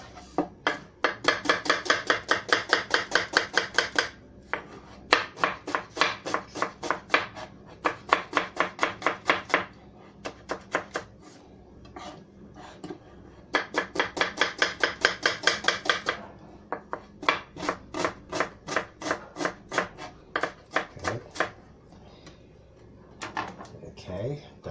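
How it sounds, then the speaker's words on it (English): Knife rapidly chopping an onion finely on a board for a beef and leek samosa filling, in fast rhythmic bursts of sharp taps separated by brief pauses, close and loud. "1 onion, finely chopped."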